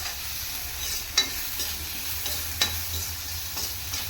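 Devil's backbone (pirandai) sautéing in a pan for chutney, a steady close sizzle and fry hiss with a couple of sharp spatula scrapes and clinks against the pan.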